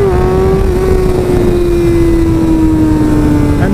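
Powerful motorcycle engine running in A riding mode, a loud steady droning hum that sinks slightly in pitch, heard close up and alone for several seconds.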